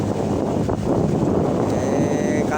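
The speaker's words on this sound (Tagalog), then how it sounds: "Sinalubong tayo ng hangin at saka alon." Strong wind rushes over the microphone in a continuous roar, with a wash of waves underneath on a boat heading out to open sea, loud and unbroken.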